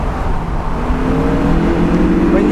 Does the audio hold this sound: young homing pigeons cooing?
no